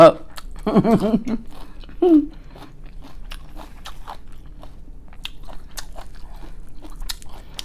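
Crunchy biting and chewing of eggplant soup with fermented spider flower greens and fresh garden vegetables, close and repeated in irregular crisp clicks, with a brief voice near the start.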